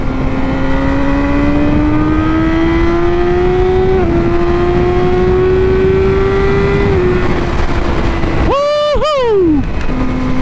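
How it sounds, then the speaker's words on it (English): A Yamaha R6 motorcycle accelerates hard, its loud engine note climbing steadily and clipped by two quick-shifter upshifts. A sharp rev burst and drop follow near the end, close to the rider. "this quick shifter sounds amazing"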